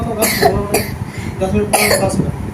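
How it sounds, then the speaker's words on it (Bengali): A patient with a persistent, frequent cough, heard as several harsh, close coughs in quick bursts with short pauses between them, loud and clear. "কাশিটা বেশি হচ্ছে"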